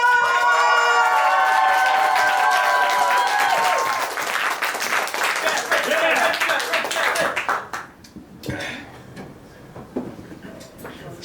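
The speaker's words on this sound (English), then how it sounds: "can we please have some clapping and cheering for Mr. Jerrod" An audience claps and cheers for stand-up comedian Jerrod Weston, loud dense applause with whoops that carries for several seconds before thinning out into scattered claps and room noise.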